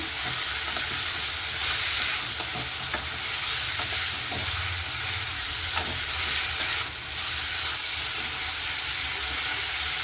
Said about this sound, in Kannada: ಈಗ ಹಸಿ ಬಟಾಣಿ ಹಾಕ್ತಾಯಿದ್ದೀನಿ. ಇದನ್ನ ಮಿಕ್ಸ್ ಮಾಡ್ತೀನಿ.